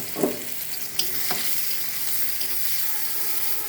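Onions frying in a pan with potatoes for hilsa pulao, a soft steady sizzle with a couple of short spatula scrapes near the start.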